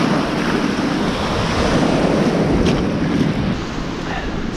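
Surf rolls onto a beach on a summer evening, a loud, continuous wash of breaking waves mixed with wind buffeting the microphone, close and unbroken.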